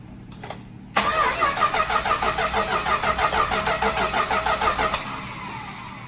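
The 440 engine of a Coronet drag car cranks with rhythmic starter pulses, then sputters and runs roughly with loud uneven chugging for a few seconds before cutting out, close and loud with no voices.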